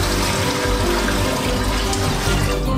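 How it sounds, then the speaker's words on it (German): Five litres of water poured into a cooking pot on the stove, a loud, continuous close-up gushing splash without a break. "Gießen wir 5 Liter Wasser hinein."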